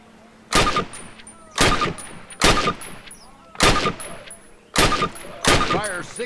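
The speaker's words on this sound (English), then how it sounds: "Fire 6 more rounds at your target in different stances and while moving" Rifle fire at a target in the Call of Duty video game: six sharp, loud shots at roughly even intervals, each ringing briefly before the next.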